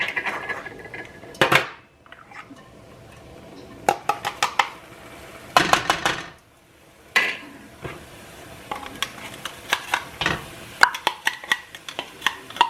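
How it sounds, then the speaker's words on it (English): Onions being chopped with a small hand-pressed dicer in a home kitchen, sharp plastic clacks and clatters in irregular clusters with brief quiet gaps between. "And I use my little dicer to chop up my onions to make it easy and quick."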